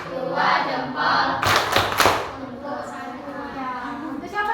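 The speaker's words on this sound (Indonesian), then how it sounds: "Kasih tepuk jempol dulu untuk teman kita yang menjawab tadi" A classroom of pupils chants and claps a rhythmic thumb-clap routine (tepuk jempol), voices and hand strikes mixing in a loud group burst that then settles into chanting.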